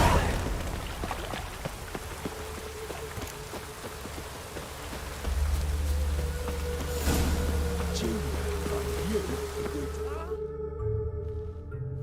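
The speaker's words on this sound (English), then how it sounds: "Witches have conjured rain." Steady rain falls in The Witcher 3: Wild Hunt, a continuous hiss of drops with low rumbling underneath, swelling louder midway, then cutting to quieter tonal game sounds near the end.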